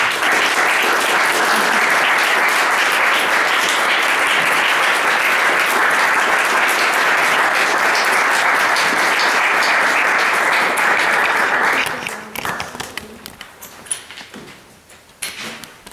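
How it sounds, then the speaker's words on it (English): Loud, sustained audience applause at a junior piano recital, steady and dense for about twelve seconds before abruptly thinning into a few scattered claps and quiet room noise. "let's give a big round of applause for our artist"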